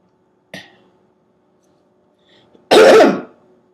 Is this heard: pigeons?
no